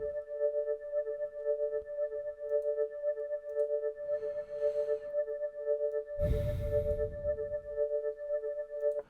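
A sustained, steady Amapiano synth pad chord holds throughout with a gently pulsing tremolo, while brief noisy bursts and a low thump pass underneath.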